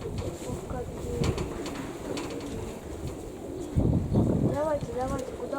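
Nikolaev pigeons cooing in strong wind outdoors, with soft repeated coos rising near the end over steady wind noise and nearby people talking.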